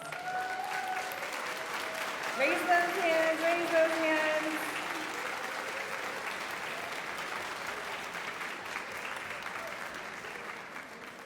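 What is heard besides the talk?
audience applause at graduation ceremony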